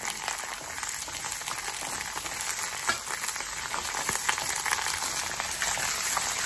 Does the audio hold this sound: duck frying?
yes